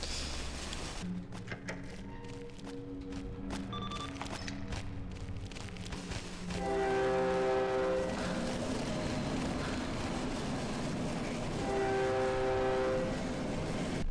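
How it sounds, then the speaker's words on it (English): In the horror video game Cry of Fear, a loud, distorted, train-horn-like blare sounds in two long sustained bursts over a rumbling, clattering background, with quieter tonal hits before it. "I know loud is scary, but goodness, it's like a distorted train horn"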